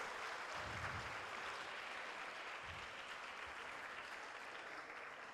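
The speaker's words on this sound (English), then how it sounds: "Can we please have a huge round of applause from all the participants?" Participants at a national mental health seminar give a big round of applause, dense continuous clapping at steady strength that fades slightly toward the end.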